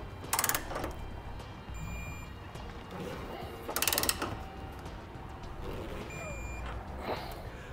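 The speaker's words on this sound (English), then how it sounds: "we'll go ahead and torque the bolts down as described in the instructions" A torque wrench ratchets in two brief bursts while tightening the bolts of a Draw-Tite Max-Frame trailer hitch receiver on a 2013 Subaru XV Crosstrek, faint against a quiet garage background.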